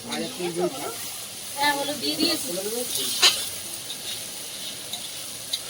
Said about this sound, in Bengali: এখন চিকেন বানানো হচ্ছে।